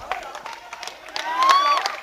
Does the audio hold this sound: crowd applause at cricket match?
yes